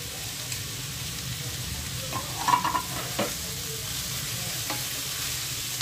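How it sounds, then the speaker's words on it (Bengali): Chopped beans and cabbage fry lightly in oil in a pan, a steady close sizzle with a few scraping stirs of a spoon around the middle and no talking. "সব সবজি ভালো করে তেলে হালকা করে ভেজে নিচ্ছি।"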